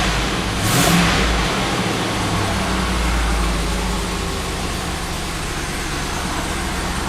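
A 2000 Land Rover Discovery II with a faulty MAF sensor revs loudly near the start, then settles into a steady engine drone as it idles down, close and alone without voices.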